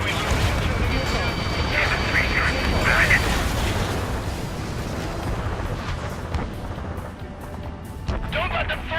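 Missile launch and blast in the combat flight game Ace Combat 7: Skies Unknown, a loud roaring rumble with crackling bursts that swells then fades, under continuous jet noise, with radio chatter mixed in.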